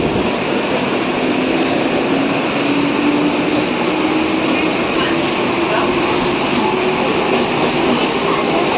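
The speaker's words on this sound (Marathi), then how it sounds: "आणि लोकल चालू पण झालेले आहे" A Mumbai local train rumbles loudly and steadily on the move, heard from inside a second-class coach, with wheel noise and a faint rising whine throughout.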